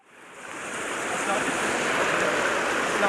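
Rushing floodwater after rain in Karachi, a steady broad roar of moving water that swells in the first second and then holds loud and continuous, with wind noise mixed in.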